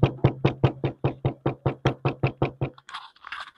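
A steady series of about fifteen hollow, resonant knocks on an untreated Honda WR-V body panel before sound deadening, close and evenly paced, followed by a brief rustling scrape at the end.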